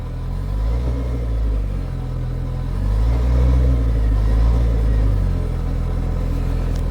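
Kawasaki Teryx H2 UTV engine driving slowly in reverse, a steady low rumbling drone with gentle rises and dips in loudness, close by and without talk.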